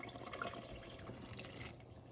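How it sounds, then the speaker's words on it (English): Two cups of water pour into a pot of tomato rice soup, a steady splashing, trickling stream heard close for a couple of seconds. "I'm actually gonna add the other 2 cups of water."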